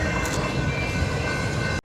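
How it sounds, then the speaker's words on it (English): A Conrail freight train rolls across a bridge overhead, a loud steady rumble with a faint tonal squeal that cuts off abruptly near the end, with no talk. "there's the train above it"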